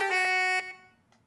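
The Old Hymn Resting goat horn from Minecraft sounds once as a short, bright, reedy blast that lasts about half a second and then fades quickly into a faint echoing tail.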